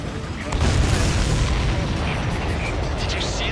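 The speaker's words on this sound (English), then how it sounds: "Did you see that explosion? Looks like that's one of them down." Missile strike on an enemy supply ship in the combat flight game Ace Combat 7, heard as a loud, sustained rumbling explosion that swells up after half a second and rolls on broadly, with a voice faintly present underneath.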